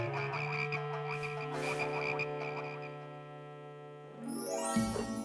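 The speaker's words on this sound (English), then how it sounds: "God made the frogs go away" Cartoon frogs croak in a rapid, rhythmic chorus over a sustained musical backdrop in an animated Bible story, ending in a rising swoosh.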